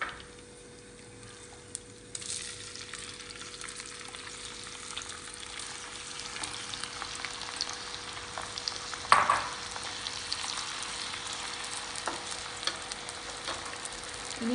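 Beef dropped into hot oil in a clay pot, giving a low, continuous frying sizzle with occasional faint clinks and stirring, fairly quiet and close.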